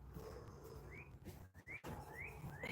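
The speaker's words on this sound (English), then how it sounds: "you guys got cardinals outside" Cardinals singing outdoors on a spring day, heard faintly through a window as a few rising whistled notes, distant and soft over room hum.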